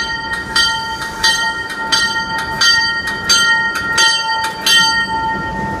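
A diesel locomotive hauling a train into a station rumbles past loud and close, with repeated bright clanks and a steady ringing tone over the heavy mechanical roar.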